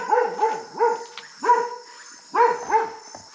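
A dog barks outdoors at dusk near a sheep shelter, giving clear, moderately close barks in short bursts of two or three with pauses between them.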